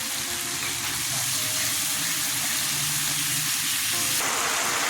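Whisked sour yogurt hitting a hot frying pan while cooking bottle gourd kofta curry: loud, continuous sizzling and bubbling up close, with a stir partway through and the crackle brightening near the end.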